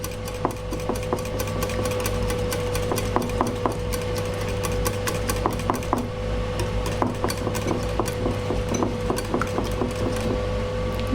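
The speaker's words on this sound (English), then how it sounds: "I've got 3 egg yolks and 1 whole egg, which I'm just going to whisk until they're smooth" A whisk beats three egg yolks and one whole egg in a bowl, producing a steady run of quick, light clicks and taps against the side over a constant low background hum, with no talking.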